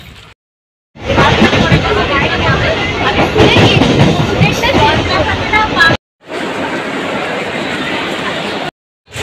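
Inside a crowded, late-running passenger train: a loud, steady rumble of the moving carriage mixed with indistinct crowd babble, broken by two short silent cuts.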